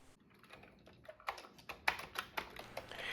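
Fast, uneven keystrokes on a Commodore 64 keyboard, with clicks bunching into quick bursts that grow louder and denser after the first second, close and alone with no voices.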